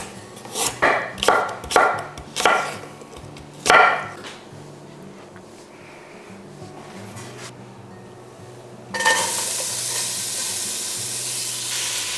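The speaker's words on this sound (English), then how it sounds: "So I'm gonna get all my veggies sauteed" Vegetables for a vegan soup sauté in a pan at home, with a run of sharp knocks and clatters first, then a steady close sizzle and hiss that jumps louder near the end.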